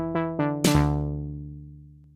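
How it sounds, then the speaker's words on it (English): A Teenage Engineering OP-1 Field synthesizer playing a clean pattern: two quick plucked notes, then a bright, fuller chord that rings out and fades slowly over the next second and a half. "I've got a couple patterns on the OP1 field here"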